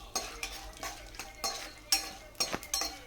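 Peanuts and chana dal frying in a pan while being stirred, a soft sizzle under repeated scraping and clinking of a utensil against the pan at an irregular pace, close and alone.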